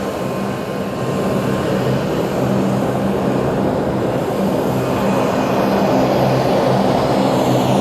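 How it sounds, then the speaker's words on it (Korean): A small passenger airplane drones steadily in the cabin on a flight into Kyrgyzstan. The engine gives a loud, constant roar with a low propeller hum underneath, with no speech. "키르키르스탄으로 들어가는 작은 비행기입니다"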